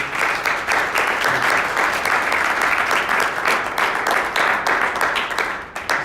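A church congregation applauds during a sermon, a loud, close, dense clapping with quick irregular hand strikes that keeps going evenly throughout, no speech over it.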